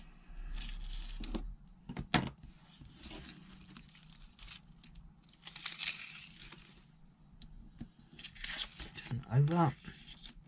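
Scissors cutting through card for a foiled tulip card front, quiet crisp snipping and rustling of the card in bursts, with a voice briefly heard near the end.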